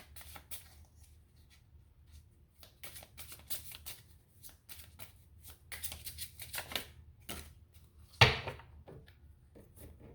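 A gold foil tarot-style card deck is shuffled close by, giving soft riffling and flicking bursts with scattered card snaps and one sharp slap near the end, and no speech.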